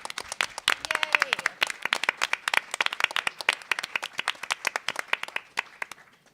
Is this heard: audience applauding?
yes